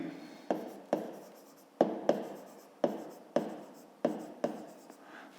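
Hand writing during a fifth-grade maths exercise, heard close up as a steady series of scratchy strokes, each with a sharp start and a fading tail, with no talking.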